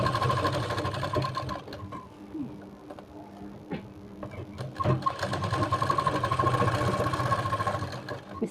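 A sewing machine stitches a Matka Gala blouse, running in steady rhythmic bursts with a short slowdown and pause midway, then picking up again, fairly close and loud.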